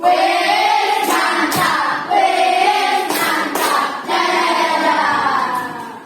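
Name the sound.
classroom applause for a student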